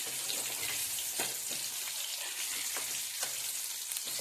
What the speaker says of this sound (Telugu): చూడండి, వంకాయలు మంచిగా ఫ్రై అయినాయి కదా